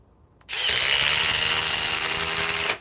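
A DeWalt XR DCF 860 power tool switching on abruptly and running at a steady loud high whine for about two seconds, then cutting off, heard close with no talking.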